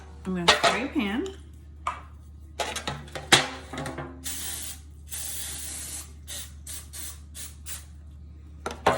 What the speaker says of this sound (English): I'm going to spray a pan.